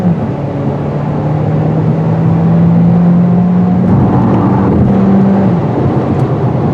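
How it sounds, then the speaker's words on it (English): A 2021 Kia Seltos SX Turbo AWD engine revs under hard acceleration, a steady loud drone climbing slowly in pitch for about five seconds before easing off, with road and wind noise throughout and no talking. "Peppy little beast. Loves to be wound out hard."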